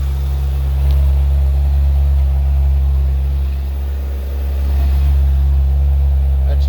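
A 2013 Honda CBR600RR 600cc supersport motorcycle engine runs loud and close with a deep steady drone, easing briefly midway before swelling again, with no talk.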